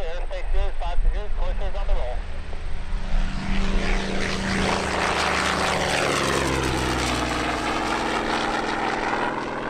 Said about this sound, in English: we now turn to the A4 Skyhawk, which performed a special legacy flight along with an FG-1D Corsair at Waukegan.